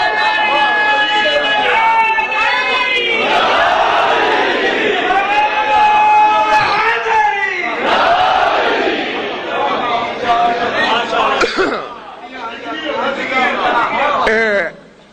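At a Shia majlis gathering, a large crowd shouts a religious slogan in loud, rising waves of massed voices, repeated chanted bursts overlapping for about fourteen seconds before cutting off.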